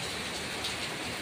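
Heavy rain in Jeddah pours as a dense, even hiss, close and steady throughout a brief stretch.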